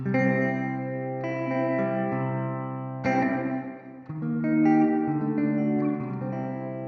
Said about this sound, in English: let's just focus on the reverb for a moment